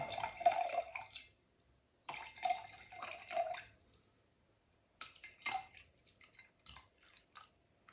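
Deionized water pours into a glass jar in a laboratory setting, heard as three separate bursts of splashing, trickling liquid with quiet pauses between them, close and fairly soft with no talking.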